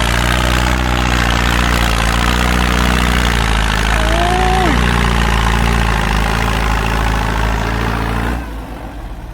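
A Ford 6610 tractor fitted with an H injection pump runs at a loud, steady, deep idle with a constant throb. A brief rising tonal call sounds midway, and the engine drone stops abruptly near the end.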